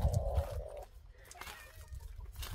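Chickens near their coop cluck in a few low, close bursts at the start, then quieter scratching and faint yard sounds continue.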